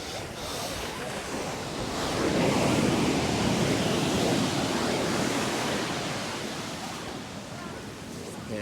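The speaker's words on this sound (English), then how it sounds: "look at that shore break" Shore break waves crash onto a Sydney beach in a broad, steady roar that swells to a peak midway and slowly eases, loud and close with wind buffeting.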